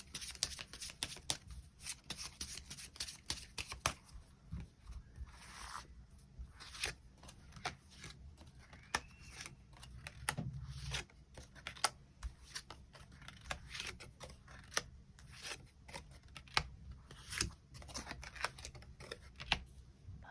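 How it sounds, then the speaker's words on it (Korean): Tarot cards shuffled and drawn at close range: soft, steady riffling and flicking, many quick card snaps in irregular bursts, faint and without voices. "그럼 6번 분들 추가 카드로 일별로 월요일부터 일요일까지 어떤 하루하루를 보내게 될지 추가 카드 뽑아보도록 하겠습니다"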